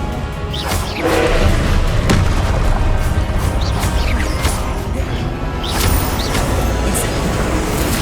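Spell blasts boom and crash through a Hogwarts Legacy boss fight against a Giant Soldier, loud dense impacts rolling one into another over a thick, continuous rumble.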